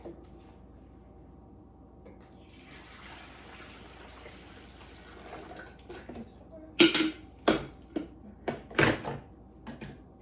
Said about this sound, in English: take your distilled clear water and just pour it in the back here